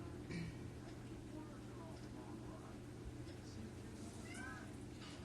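A cat meows several times, faint and brief, over a steady low hum of background noise.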